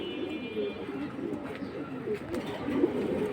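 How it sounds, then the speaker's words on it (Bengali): Large high-flying pigeons coo softly and continuously at a bird sale, a low murmuring flock sound with a faint voice in the background. "এই দেখেন কত বড় কবুতর।"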